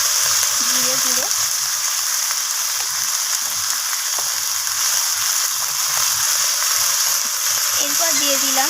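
Flat beans being stir-fried in a pan with chilli powder, cumin powder, salt and ginger paste, a loud continuous sizzle with soft scraping of the spoon, and someone talking over it.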